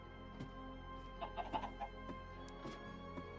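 Video game chickens cluck softly in short, scattered bursts over a steady low background hum, with a quick cluster of clucks in the middle.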